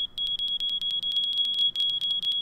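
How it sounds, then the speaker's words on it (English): Rapid, shrill electronic alarm beeps from a fire alarm in Minecraft repeat in quick, uneven pulses, loud and close with no talking. "So whenever the fire alarm goes off,"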